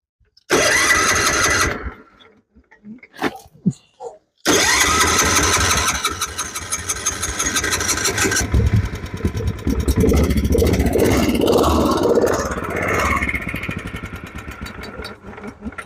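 A leaking mini tractor engine cranks over in short bursts, then catches and roars into loud, steady running. The revs rise and fall slightly as it keeps going close by, with no talk.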